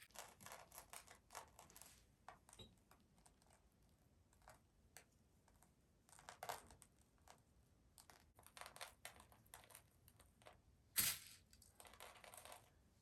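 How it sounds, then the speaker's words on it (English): Crushed glass is sprinkled and pressed onto a wet glittered canvas, giving a scattered run of small dry clicks, ticks and gritty crunches that come close and quiet, with one sharper crack near the end. "Now I'm going to add my crushed glass."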